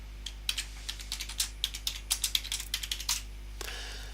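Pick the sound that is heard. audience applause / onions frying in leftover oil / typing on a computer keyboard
typing on a computer keyboard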